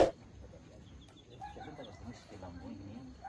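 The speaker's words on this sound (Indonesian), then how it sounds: "Itu peternakan saya. Itu ayam gadang saya." Chickens cluck softly on a farm in Talang Babungo, several scattered calls spread over a faint ambient background with a brief bump at the start.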